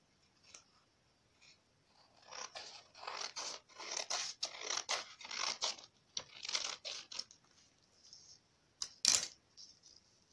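Scissors cut fabric for sewing, in a series of close, crisp snipping and slicing strokes in bursts with short pauses between, then one sharp louder snip near the end, with no talking.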